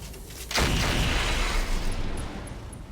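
A RogueTech mech opens fire on a Catapult mech: one sudden loud blast of weapon fire erupts, then rolls on as a dense, sustained rumble that slowly thins out, with faint high electronic pips near the end and no talking.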